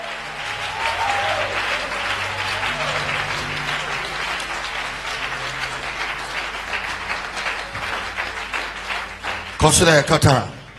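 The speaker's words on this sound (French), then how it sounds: "acclame le Seigneur. Acclame et loue le Seigneur." A church congregation claps and cheers loudly and steadily throughout, with singing and voices mixed into the crowd noise and a brief louder burst near the end.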